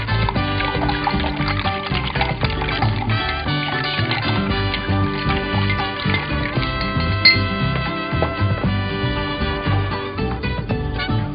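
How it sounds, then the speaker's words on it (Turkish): A bar spoon stirs a dry martini of gin over ice in a mixing glass, giving steady, close clinking and swirling ice sounds that run continuously with no speech. "Bar kaşığı yardımıyla mixing glass'ımızı kokteylimiz soğuyuncaya kadar karıştırıyoruz"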